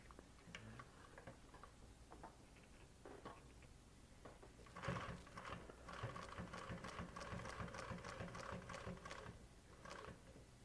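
An industrial sewing machine runs with its thread tension turned all the way tight, giving a rapid, close mechanical clatter of stitching that starts in short bursts and then settles into a sustained run.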